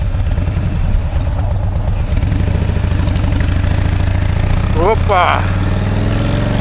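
A motorcycle engine runs loud and close with a steady, throbbing drone while weaving through traffic; a person gives a short exclamation near the end.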